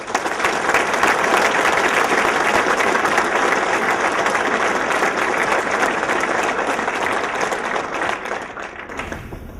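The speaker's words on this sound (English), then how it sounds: "how about one more round of applause for all of our finalists and winners this evening" Sustained audience applause for the finalists and winners at a Best of the County 2013 awards evening, dense steady clapping from a large crowd that holds for nearly ten seconds before tapering off.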